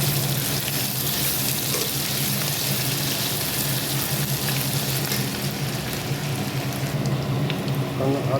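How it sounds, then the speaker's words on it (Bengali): Ginger, garlic and green chilli paste fries in hot oil for biryani, giving a loud, even sizzle like heavy rain that runs unbroken and close, with a low steady hum beneath. "আদা, রসুন আর লঙ্কা ভাজা হয়ে গেছে"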